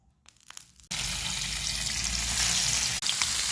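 Washed dried fish coated in green chili and turmeric hits hot oil in a pan and erupts into a loud, continuous close sizzle after a few soft handling sounds, with no talking.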